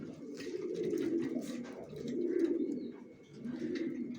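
Female racer pigeons, two young birds of down shape, cooing in repeated low rolling phrases close by, with brief pauses between bouts and no talking.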